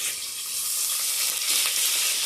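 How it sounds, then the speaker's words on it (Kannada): Onion and curry leaves fry in a pan for peas kushka, giving a dense, even sizzle that stays close and fairly loud for the whole stretch, with faint stirring beneath and nobody speaking. "ಅದು ಈರುಳ್ಳಿ ಸ್ವಲ್ಪ ಕಲರ್ ಚೇಂಜ್ ಆಗೋವರೆಗೂ ನಾವು ಫ್ರೈ ಮಾಡಬೇಕು"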